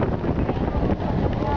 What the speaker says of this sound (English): it's getting a little windy here